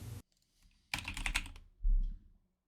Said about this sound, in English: try typing it in and see if it comes up